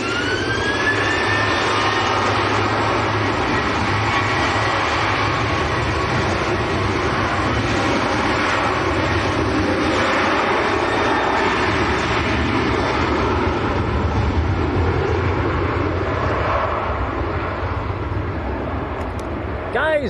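A TUI airliner arriving from Lanzarote lands at Manchester Airport in windy weather, a sustained jet rumble with rising and falling whine that stays loud and steady over gusty wind noise.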